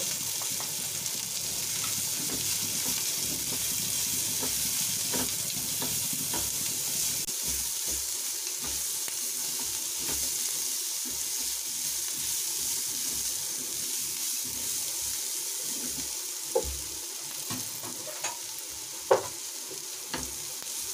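Masala for stuffed idli frying in a pan, a steady broad sizzle running throughout with faint scrapes of stirring and a couple of small knocks near the end.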